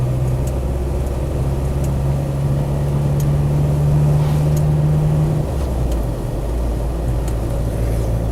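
A 1996 Land Rover Defender 90 pickup with a 300TDi diesel engine and R380 gearbox pulls in fourth gear from low revs, giving a steady loud drone with a low tone that shifts near the end.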